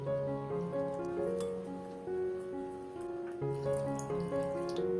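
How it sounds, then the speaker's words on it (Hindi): Water is added a little at a time to a thick spiced batter for green chilli pakoras, a steady trickling splash running throughout with no talk. "थोड़ा थोड़ा पानी डाल के इसके गाढ़ा सा एक बैटर तैयार कर लूंगी"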